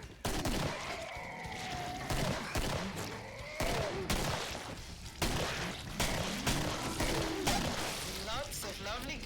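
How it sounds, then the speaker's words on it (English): Sustained automatic gunfire from a magazine being emptied in Killing Floor, loud continuous rattling bursts across the whole stretch, layered with game music and a voice speaking over it. "Just mag dump into the bitches."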